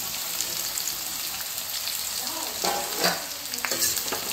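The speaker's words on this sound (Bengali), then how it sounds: "তো আমি তেলের মধ্যে দিয়ে দিচ্ছি পেঁয়াজ।" Chopped onion hitting hot oil in a kadai, a loud, steady sizzle close by with scraping stirs and a few sharper spatters toward the end, no voices.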